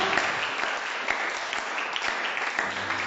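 A church congregation claps loudly and continuously, a dense wash of applause from many hands filling the room, with faint voices beneath.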